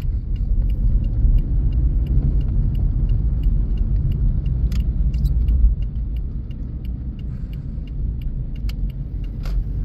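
A semi-automatic Toyota truck with a freshly replaced clutch drives along, its steady low engine and road rumble filling the cabin, with small rattles and ticks scattered over the drone.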